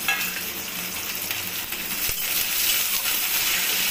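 Sliced onion, cut neither thin nor thick, drops into hot oil with four garlic cloves for a chichinga (snake gourd) dish, giving a steady close sizzle with a brief clatter partway through, no talking.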